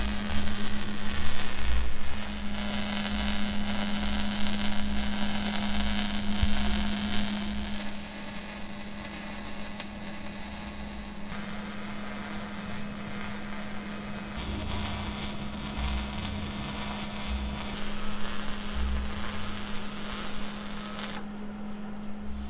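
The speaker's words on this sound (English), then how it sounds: "drop it down and weld that up there." Welding on the steel uprights of a scrap-built gantry crane gives a continuous electrical hum under a crackling, hissing arc that shifts in intensity for over twenty seconds with no talk.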